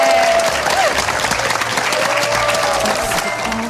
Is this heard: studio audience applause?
yes